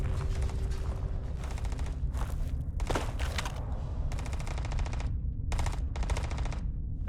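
Gunfire in the Starfield video game rattles in repeated rapid bursts over a constant mechanical drone, fairly loud and with no voices.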